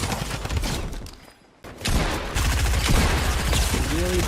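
Gunfire in the video game Fortnite, with dense bursts of rapid shots clattering through most of the stretch and a short quiet gap partway. A voice talks over it.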